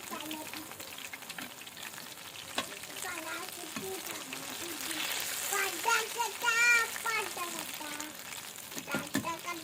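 Lachha pakoras frying in mustard oil, with a steady busy sizzle and bubbling close by, while voices talk and exclaim over it.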